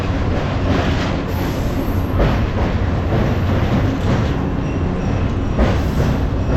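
A local train on the Howrah–Digha line runs past Kolaghat station, giving a loud, steady rumble with rhythmic wheel clatter that stays close and constant throughout, with no voices.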